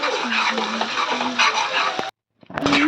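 Food being stirred in a cooking pot for a goat meat dish, a steady scraping and sizzling churn that runs loud and continuous, breaks off into a brief silence, then resumes.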